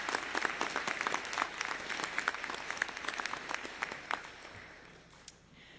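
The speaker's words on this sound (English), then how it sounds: "Let's give him another round of applause." A steady round of applause rings out at a university commencement for the College of Arts and Sciences, sustained crowd clapping that thins and fades toward the end.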